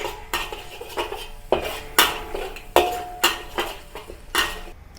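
Spices sauté in a pan over low heat for a Malaysian curry, a utensil scraping and clinking against the metal about every half second in a steady stirring rhythm, close and clear.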